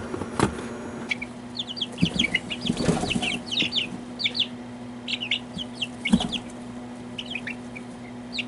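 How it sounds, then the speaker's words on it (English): Chickens cluck and chirp in short scattered bursts in a poultry nursery, over a steady low hum, with a few thumps and rustles nearby. "Let me show you the ducks and the chickens."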